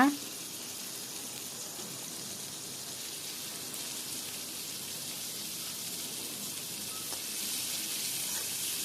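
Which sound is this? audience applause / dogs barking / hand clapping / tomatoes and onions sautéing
tomatoes and onions sautéing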